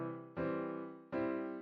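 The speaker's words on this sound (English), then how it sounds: "If you play these chords back to back, they sound like this." Three sustained piano chord inversions played back to back, each struck cleanly and left ringing before the next one comes in.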